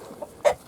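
Chickens in a coop with an added run give two or three short, close clucks spaced apart, with no talk.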